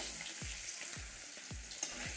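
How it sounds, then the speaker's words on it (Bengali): Katla fish sizzles in hot oil, with steady close crackling and several spatula strokes scraping through the pan in a loose rhythm and no talking. "মাছগুলো লাল করে ভেজে নিয়েছি, তুলে নিচ্ছি এখন"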